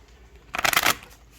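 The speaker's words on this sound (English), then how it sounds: "shuffle them back up" Trading cards are shuffled during a team break, a quick riffle of dense papery flutter that rises sharply, runs for about half a second and stops, close up and alone.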